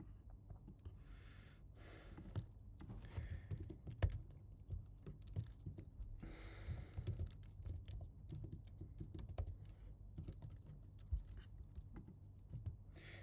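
A prompt being typed on a computer keyboard, with soft, rapid key clicks in irregular bursts, close but quiet, and no one speaking.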